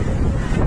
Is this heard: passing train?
no